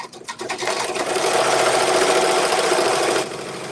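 A BAI 15-needle embroidery machine stitches close and loud in one continuous burst of rapid mechanical chatter lasting about three seconds, with no one speaking.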